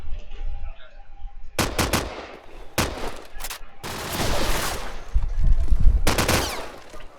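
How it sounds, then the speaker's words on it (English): Bursts of AK rifle fire in a Counter-Strike LAN playoff match, sharp clustered volleys cracking close and loud in rapid rhythm, with heavier sustained firing toward the end and no talk. "Jenny going for the jumping AK shot will get the wallbang onto Evo."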